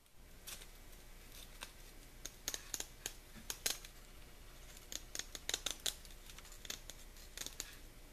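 Scissors cut into filter material for an aquaponics fish tank quarantine filter, giving a quiet, irregular series of sharp snips and crisp cuts that cluster more densely in the second half.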